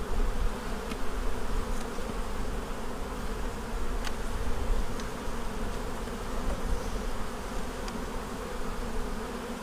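Honey bees buzz steadily and densely throughout, the dull insect drone of an open hive during a March brood inspection and hive split, fairly close and continuous with a few faint clicks from handling.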